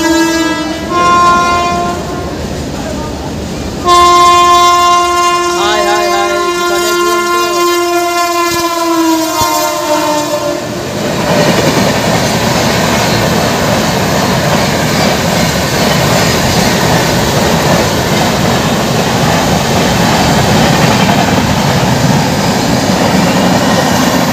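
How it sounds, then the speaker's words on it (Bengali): Sealdah–Bikaner Duronto Express passing close by: long, loud horn blasts for about ten seconds, then a heavy, sustained roar of the rolling train and rattling wheels. "সামনে আসছে শিয়ালদা থেকে বিকানের দুরন্ত এক্সপ্রেস"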